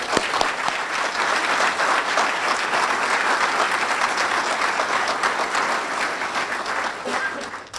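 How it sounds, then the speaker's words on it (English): A crowd at a World Trade Center steel memorial dedication applauds, with loud, steady, dense clapping running throughout. "Round of applause."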